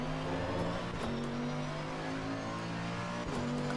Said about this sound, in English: So get the car as straight as we can and just plant that accelerator.